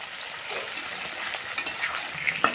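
Slit green chillies drop into hot oil alongside onions, producing a bright, even frying hiss with a couple of small crackles and pops near the end.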